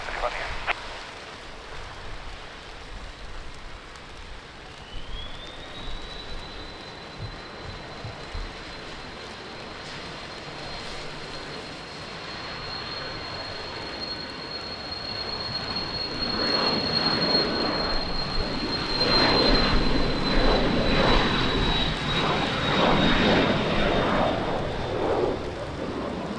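An airplane takes off at Lisbon Airport in wind and rain. A thin, high engine whine rises and holds, then a broad, loud roar builds and fills the second half.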